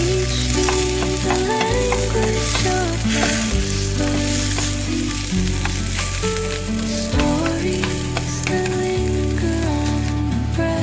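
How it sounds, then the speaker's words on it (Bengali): Curry leaves fry loudly in a hot pan, a dense continuous sizzle and crackle close up, with the clatter of stirring and steady background music. "কারি পাত্তাটা দিয়ে একটু ভাজবো"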